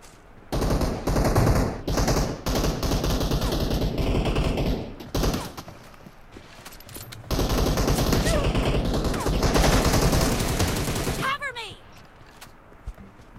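Rapid bursts of gunfire crackle in repeated volleys, with voices talking loudly over and between them.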